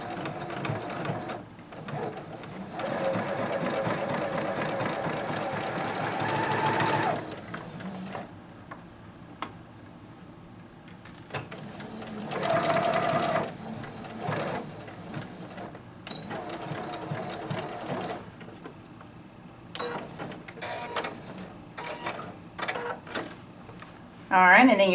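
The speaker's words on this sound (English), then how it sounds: "you're going to mess up your sewing machine." Sewing machine stitching the seam of a skater dress, running in long rapid mechanical bursts with short pauses between, close and fairly loud, while a voice talks over parts of it.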